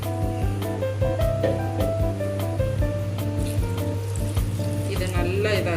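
A tumbler of water poured into chicken frying in a hot pan for chicken chukka, giving a loud, close, continuous hiss and bubbling sizzle that rushes like surf, with no talk.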